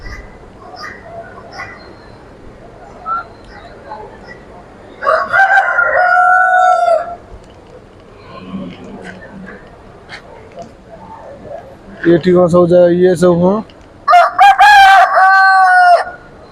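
Kadaknath roosters crowing at a fish and animal fair, two loud drawn-out crows close by with people talking in between and around them.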